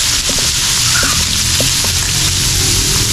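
Food sizzles and fries steadily in a pan, a continuous loud crackling hiss with small pops and faint clinks of stirring, while a few voices murmur low underneath.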